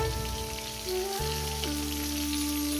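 Taro and potato fry in hot oil in a pan with a steady, even sizzle, heard close up over a constant low background hum, and no one speaks.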